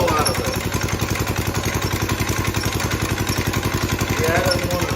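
A late-1940s Clinton small engine on a cycle bar, running for the first time in 50 years, chugs in a fast, even putter close by, struggling to throttle up.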